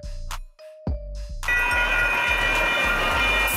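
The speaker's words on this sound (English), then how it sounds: "Light rail. A modern lighter train system for urban and suburban transportation." A light rail train: a couple of chime-like bell tones, then a steady close rumble with rhythmic low thuds of wheels passing over rail joints.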